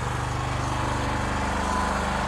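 A Scag lawn mower engine runs steadily at close range, a loud, even mechanical drone with a regular low pulsing throughout and no talking.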